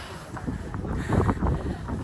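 Gusty wind buffets the microphone in uneven rumbling bursts outdoors in Bratislava, Slovakia, growing stronger toward the middle and end, with no voices.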